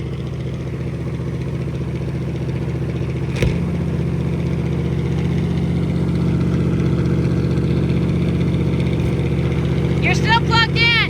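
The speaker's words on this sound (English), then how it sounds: "but she runs, and she runs good" A 1959 Cadillac engine that sat unused for years, now running steadily at close range with a deep, even rumble and a faint knock near the start, while a voice speaks briefly at the end.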